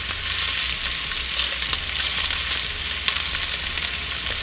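Cuban-style pork meatballs searing in a hot pan, a loud steady sizzle and fry that carries on without a break throughout, with no voices over it.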